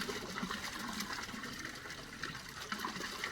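Hand-operated water pump drawing well water, a steady splashing, gurgling flow with rhythmic sloshing, fairly close and continuous throughout.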